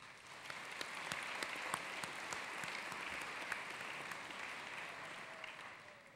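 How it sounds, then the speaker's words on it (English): Sustained applause from a seated audience at a West Virginia University School of Dentistry commencement ceremony, steady dense clapping with a few sharper claps standing out, moderately distant and filling the whole stretch without talk. "Let's all give them a round of applause"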